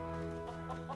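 Brief, soft clucks from a chicken in LEGO Worlds on Xbox One come in a few quick pulses over a constant background drone.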